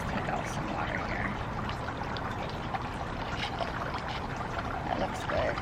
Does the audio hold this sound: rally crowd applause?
no